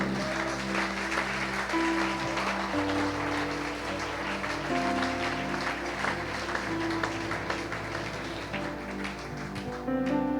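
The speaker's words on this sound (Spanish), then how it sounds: "Denles aplauso al Señor" Church congregation clapping in praise during a Spanish-language sermon, a soft continuous patter of hands mixed with sustained musical tones from an instrument playing underneath.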